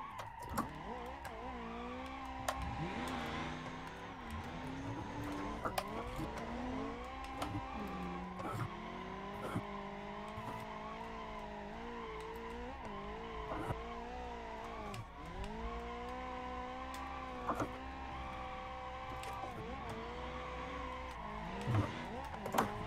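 A car drifting and spinning out in the BeamNG driving game during tandem drift practice: a steady, revving engine whine rises and falls with tire skid noise, continuous and loud throughout.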